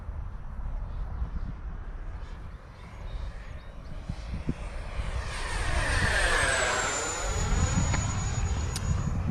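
Electric ducted-fan RC jet, an FMS 80mm Rafale or E-Flite 90mm Viper, at full throttle: a steady whooshing roar with a rising then falling high whine as it passes overhead, loud and continuous with no talk.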